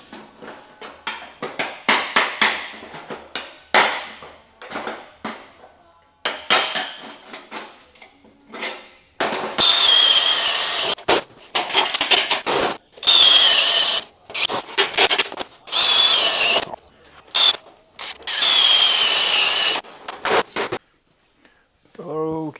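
Spot welds are cut out of a steel car body panel in a series of short, harsh bursts of grinding and rasping, with speech between and around them.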